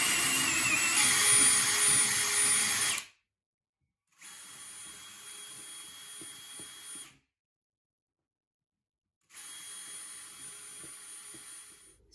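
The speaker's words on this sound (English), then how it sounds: "So I'm actually drilling through." A power drill bores through a board in three separate bursts of steady high whine, each lasting a few seconds and separated by short silences, recorded close and loud.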